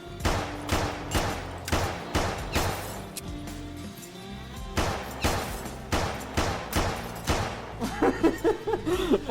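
Bursts of gunfire in the virtual reality game Hover Junkers, a series of sharp, loud shots at an uneven pace with brief pauses, ending in a quicker cluster of shots.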